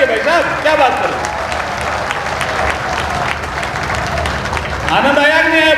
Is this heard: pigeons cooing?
no